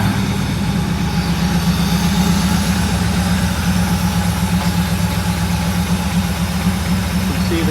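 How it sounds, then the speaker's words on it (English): A Mercedes 6.9 with its muffler cut off runs loud and steady, a deep continuous engine drone that holds at a constant level throughout with no talk over it. "It's really loud because the muffler, for some reason, has been cut off."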